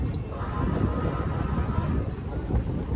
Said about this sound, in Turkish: Rüzgar da var ha.